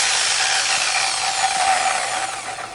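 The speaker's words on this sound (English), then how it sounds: "I found it best to start very slowly when doing the cutting, because the blade has a tendency to skip across the curved surface when it first meets it." A saw blade cuts into a curved stainless steel handrail, giving a loud, steady high-pitched grinding screech that holds for the whole stretch and tapers slightly at the end.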